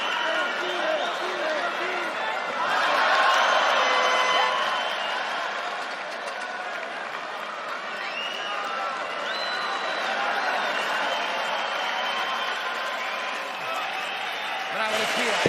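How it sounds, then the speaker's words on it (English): A UFC fight crowd roars and cheers steadily in an arena, swelling at moments, while someone talks over the din. "the crowd are getting behind it"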